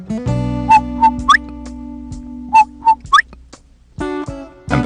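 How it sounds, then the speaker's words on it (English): A quail whistles out in the night, giving a clear three-note call twice, loud and close, over sustained instrumental music. "you hear the quail whistle out to you."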